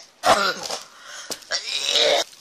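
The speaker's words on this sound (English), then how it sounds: "I hate this cough" Two harsh coughing fits close up, each a rough burst with throat-clearing rasp, separated by a short pause.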